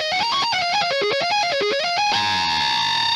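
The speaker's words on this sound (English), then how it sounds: "This is going to be a little bit louder now that there's an amp model on there" A cappella singing voice fed through a guitar amp model, gritty and distorted, a melodic line of quick sung notes that ends on a long sustained tone with delay and reverb tails ringing loud and alone.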